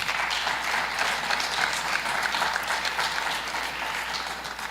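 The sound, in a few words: applause for the honorees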